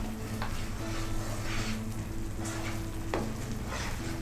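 Almond halwa (badam halwa) being stirred steadily in a pan over low heat, a soft continuous sizzle with scraping strokes close by, with no talking.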